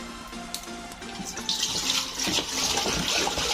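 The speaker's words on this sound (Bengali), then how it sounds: "তিন লিটারের মতো আমি পানি দিলাম" Around three litres of water pours into a cooking pot on a gas stove for pilaf, a rushing splash that grows louder and fuller halfway through and keeps running steadily to the end, with no talking.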